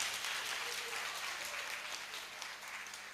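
A church congregation applauds in a steady wash of clapping that stays even throughout, heard from within the hall.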